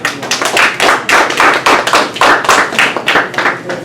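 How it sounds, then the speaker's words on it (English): A gathering of a Baltimore UNIA ACL division erupts in close, loud clapping, sharp individual hand claps bunched into rhythmic bursts throughout with no talk over them. "So we want to give him a round of applause,"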